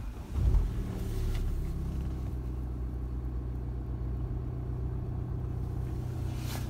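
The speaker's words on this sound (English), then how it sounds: "if you put your foot on the brake and press the start button" A 2014 BMW 520d diesel engine starts with a brief low thump and surge, then settles into a steady, low idle rumble heard from inside the car.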